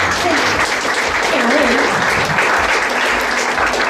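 Audience applause at a panel event, a steady dense wash of clapping that fills the whole stretch at even loudness, with a voice briefly audible beneath it.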